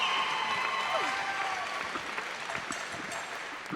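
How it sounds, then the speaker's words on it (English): A crowd at the British Swimming Championships cheers and applauds, a loud roar of whoops and clapping from a packed pool arena that slowly fades, with scattered voices and a whistle-like shout over it. "Did you hear those cheers just then?"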